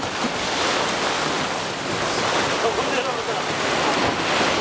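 Rough sea waves crash and churn against rocks off Cheongdeungdo island, a constant loud roar of surf mixed with gusty wind buffeting the microphone.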